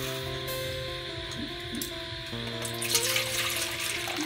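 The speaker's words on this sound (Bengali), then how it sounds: "জল দাও, জল দাও, এখানে দাও, এটা ভর্তি করো" Water runs from a tap into a container, a steady close rush that grows brighter and splashier toward the end as it fills, with a low hum beneath.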